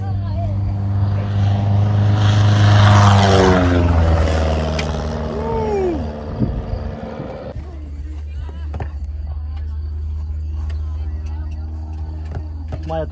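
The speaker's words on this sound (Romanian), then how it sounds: "Nu aterizează, este low pass." A Cessna light airplane making a low pass over an airfield: a loud, steady engine drone with a falling pitch as it passes close by, then a quieter, lower hum. People talk throughout.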